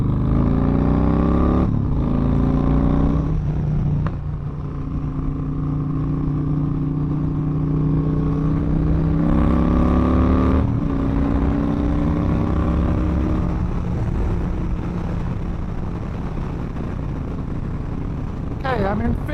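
A Yamaha Raider motorcycle cruises on the interstate after a slipping-clutch fix, its engine droning loud and close with rising and falling pitch as speed shifts, wind rush steady underneath.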